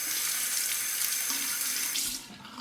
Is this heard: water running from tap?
yes